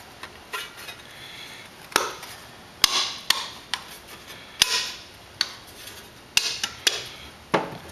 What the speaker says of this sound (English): So now I'm going to take this apart. I'm going to pop this off.